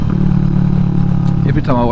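Kawasaki Vulcan S motorcycle fitted with a Delkevic slash cut exhaust, a close, loud engine rumbling steadily with a low-pitched throb, then a brief rev near the end as a voice starts speaking.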